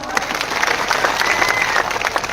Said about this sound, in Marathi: टाळ्या वाटा.